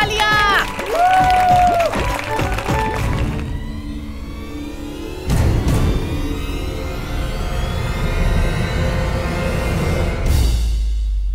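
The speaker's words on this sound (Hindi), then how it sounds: "अब हमारे साथ खेलने के लिए टीम में दो लोग और जुड़ गए हैं, राहुल और अंजलि हैं। तालियां।" A studio audience on a Hindi TV drama set claps and cheers to welcome two new players joining a team, a dense burst of applause with scattered shouts that fades into a lower crowd roar.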